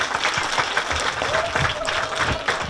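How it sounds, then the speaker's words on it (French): An audience at a hypnosis debate claps, a brief burst of moderate, fairly close applause with a voice briefly audible within it. "On peut l'applaudir très fort."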